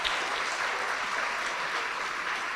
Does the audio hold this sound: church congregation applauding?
yes